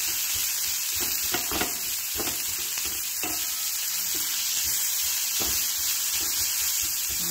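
Chopped onion frying with a pinch of salt in a pan, with a loud continuous hiss and sizzle, close by, and several short scraping stirs in the first few seconds.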